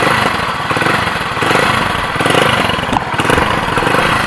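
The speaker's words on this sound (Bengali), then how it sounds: "বাইকের সাউন্ড দেখো" Close by, the engine of a 16-year-old Hero Splendor Plus motorcycle idles just after a cold start, with a steady, rapid, even chug throughout and no voices.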